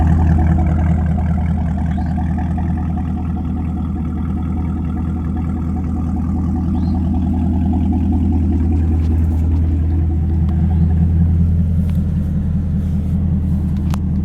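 A 2020 Camaro SS 1LE's 6.2 V8 with MBRP exhaust idles with a deep, steady, loud burbling rumble, close by and continuous, with no talk over it.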